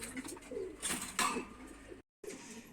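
Breeding pigeons in a loft coo softly in low, rolling phrases, several overlapping calls close by, with a brief gap of silence near the end.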